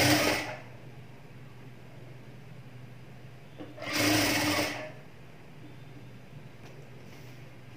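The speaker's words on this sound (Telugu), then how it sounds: "కొంచెం ఫోల్డ్ చేసుకొని కుట్టు వేసుకోండి." A sewing machine stitches a folded blouse seam in two short bursts, one at the very start and another midway, each loud and close, with quiet room tone between.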